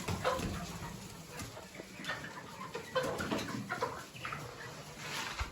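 Several chickens cluck and murmur nearby in a steady, busy chorus, with occasional louder squawks rising above the flock.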